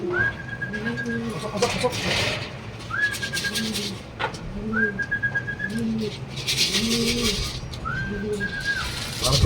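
Racing pigeons at a club training session in Gumaca, Quezon coo in repeated rounds, clear and close, while people talk and call out briefly over them.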